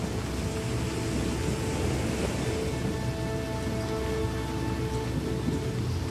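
Rain from a storm on the South Coast pours down in a heavy, steady wash of noise, with a faint low rumble beneath it and some tonal engine or boat hum. No one speaks.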